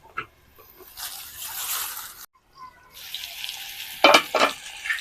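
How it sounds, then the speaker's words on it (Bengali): Potato and pumpkin pieces fry in a pan, giving a moderate hiss that cuts out briefly, likely as a lid goes on, then resumes, with a couple of sharp clanks near the end. "ঢাকা দিয়ে দিয়ে এইভাবে কিছুক্ষণ ভেজে নিচ্ছি"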